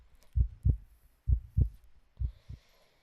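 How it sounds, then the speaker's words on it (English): A game character's heartbeat thuds in three paired beats, lub-dub, close and steady against a near-silent background. "I can hear his heartbeat."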